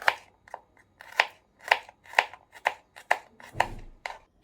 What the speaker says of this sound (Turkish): Sarımsak doğrayalım.